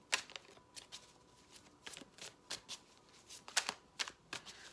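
A tarot deck is shuffled by hand to draw a clarifier card, a series of quick riffling flutters and soft slaps in irregular bursts, close and quiet with no talking.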